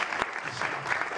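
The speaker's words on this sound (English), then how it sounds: "Give him a round of applause" Applause from an audience at a showcase event, a steady continuous wash of clapping throughout, fairly loud and close, with no talk over it.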